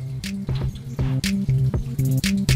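Hot water glugs and gurgles in a quick, regular rhythm as it is poured over a spoon while brewing American amber ale, close up and fairly loud.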